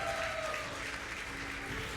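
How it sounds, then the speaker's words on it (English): Audience applause at a commencement ceremony, steady broadband clapping from a large crowd filling the hall, even and sustained throughout without voices. "A big round of applause, please."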